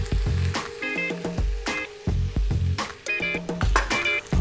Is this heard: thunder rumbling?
no